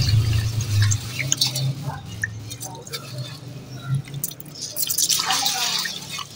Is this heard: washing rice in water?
yes